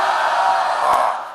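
A church congregation at a Korean autumn revival evening service shouts "Lord" together in one loud, sustained, massed cry that fills the room and fades out at the end.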